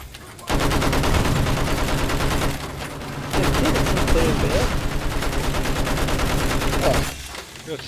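Battlefield 1 video game gunfire: dense, sustained bursts of automatic weapon fire and volleys that run almost continuously, loud and close, with a short break near the middle and a quieter tail at the end.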